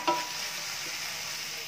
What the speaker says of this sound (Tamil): பிரண்டை ஓரளவுக்கு கலர் சேஞ்ச் ஆகி நல்லா வதங்கிடுச்சுங்க.